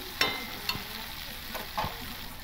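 Spice masala fries in oil in a pan, with a close, steady sizzle broken by a few sharp stirring scrapes and clinks.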